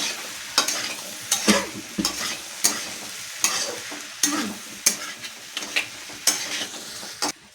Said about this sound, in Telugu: తర్వాత కొంచెం ఫ్రై చేసుకున్నాం.